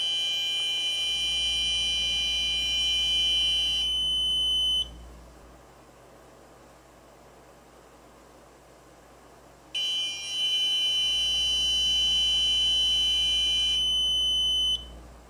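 An UnderGuard alarm sounds from both the main unit and its fob: shrill, steady electronic tones with a low hum underneath, lasting about four seconds, then silent for several seconds before sounding again for another stretch.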